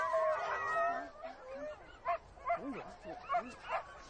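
Sled dogs in an Inuit community howl and then give a run of short, sharp yips and barks in uneven bursts, fairly close and loud.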